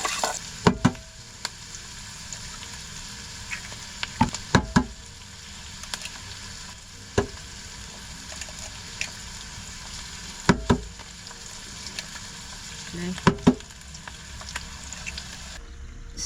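Chopped onion frying in a pan for an omelette, cooked inside a van in the Lake District, gives a steady close sizzle broken by sharp clacks and knocks of stirring and utensils, with no talk.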